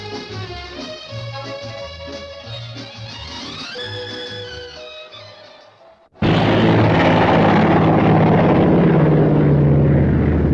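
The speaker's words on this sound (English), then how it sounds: "Day after day, for many months, men and supplies were flown in to the lonely island." A 1967 aircraft carrying men and supplies to remote Barrow Island: a droning engine tone drifting in pitch, then a sudden loud, dense roar as the engine runs up close.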